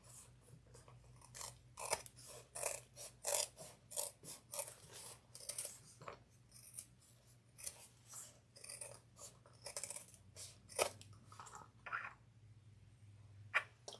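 Scissors cut leather to width for a leather ray project, a series of crisp snips coming close and fairly quiet in irregular bursts, with short pauses between cuts.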